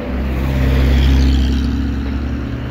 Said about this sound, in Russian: А нет, это маршрутка все-таки